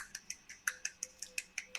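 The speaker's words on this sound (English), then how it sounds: "I can one hand clap" A single hand snaps out about ten sharp, evenly spaced one-handed claps at a quick steady rhythm, close and dry against a quiet background.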